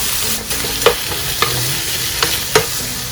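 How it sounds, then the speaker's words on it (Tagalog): Bacon frying in a pan for carbonara: a steady, close hiss of sizzling fat with a few sharp clacks of a utensil stirring against the pan. "So, here is our bacon. Lagay lang natin sa pan. Lulutuin natin siya."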